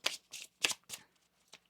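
Tarot cards shuffled by hand during a reading, giving several quick papery riffling bursts in an irregular rhythm, close and fairly quiet, with no talking.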